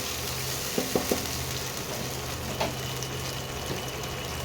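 Tomato paste from one large tomato hissing as it goes into hot oil in a frying pan, a steady close sizzle with a few sharp crackles and a low hum underneath.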